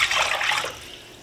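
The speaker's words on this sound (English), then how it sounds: "I'm going to cover that with 4 cups of water." Water pours steadily into a pot of frozen mixed vegetables, a loud splashing rush that eases off toward the end of the brief pour, with no talking.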